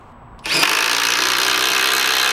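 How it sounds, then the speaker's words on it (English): A Milwaukee One-Key impact driver drives a 1/2-inch lag bolt, starting abruptly and hammering loudly and continuously at close range with a harsh, rattling impact buzz. "Here's what the 1-key sounds like driving a 1/2-inch lag bolt."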